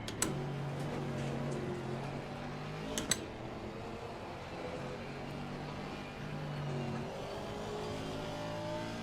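Camaro GT4 race car engine in the Assetto Corsa Competizione racing game, a steady droning engine note with shifting pitch and a couple of brief sharp clicks, continuous and fairly loud with no talk.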